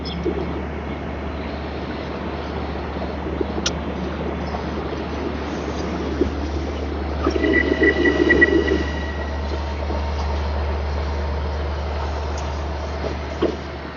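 An LIRR train at Babylon station rumbles past in a steady, continuous roar with a louder swell of wheel and rail noise partway through, while pigeons coo nearby.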